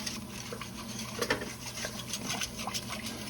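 A whisk stirs gravy for smothered beef tips made from leftover prime rib in a pan, giving a steady close wet swishing and light scraping with faint liquid patter throughout.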